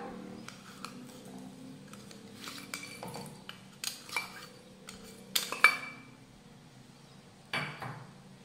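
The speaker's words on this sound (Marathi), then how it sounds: "ह्याला फक्त आपल्याला असं मिक्स करून घ्यायचंय।" A spoon mixes jaggery into barnyard millet in a pan while making a fasting lapshi dish, giving scattered metallic clinks and scrapes of uneven loudness, with several sharper knocks near the end.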